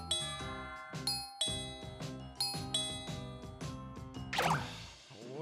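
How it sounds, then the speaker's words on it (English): A doorbell chimes over and over in rapid two-tone ding-dong rings, each strike ringing out before the next, ending in a brighter burst of jingling tones. "Who's ringing my doorbell so much?"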